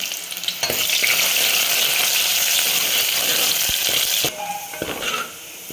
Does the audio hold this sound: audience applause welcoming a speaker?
no